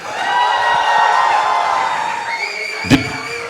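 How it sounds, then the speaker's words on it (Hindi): A crowd at a live entertainment event cheers and whoops for Deepika, a dense, steady roar of voices with a sharp slam near the end. "एक बार जोरदार तालियां दीपिका के लिए"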